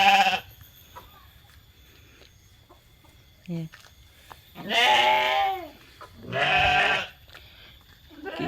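Sheep bleat in a rural village yard, with two strong, wavering cries a few seconds apart following a short earlier call, close and clear over a quiet background with a brief word spoken.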